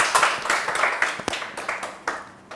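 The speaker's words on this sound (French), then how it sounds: "On applaudit pour elle." Studio audience applauding a nine-year-old girl on a children's television show, with a run of quick, uneven claps at moderate distance that rise and fade over a couple of seconds.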